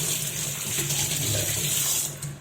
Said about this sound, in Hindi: पानी से एक बार इसको पूरा अच्छे से रिंस कर लूँगा।